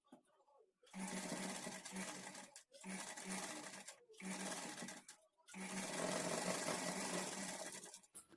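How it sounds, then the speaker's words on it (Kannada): A sewing machine stitching puff sleeves onto a shoulder joint, running in four steady motorized bursts with short pauses between them, close and loud and heard alone. "ಇದ್ರ ಮೇಲೇನೆ ಸ್ಟಿಚ್ ಮಾಡ್ಕೊಳ್ತಾ ಬರಬೇಕು"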